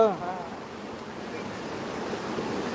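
A village stream rushing steadily, a broad continuous wash of water noise with some wind buffeting on the microphone, close and fairly loud throughout.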